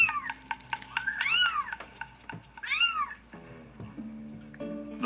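A young Toyger kitten lets out a string of high, rising-and-falling meows and squeaky cries, loud and close, with short gaps and a couple of shorter, lower calls near the end.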